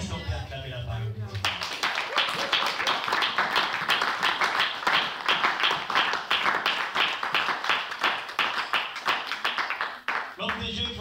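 A church congregation claps and applauds together, dense sustained clapping filling about nine seconds before stopping, with talk briefly at the start and end.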